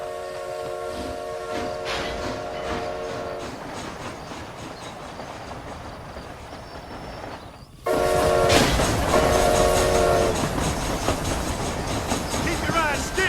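Train running in Red Dead Redemption: Undead Nightmare, a steady rolling rumble with clattering and a horn-like tone, loudening sharply partway through, with voices talking over it.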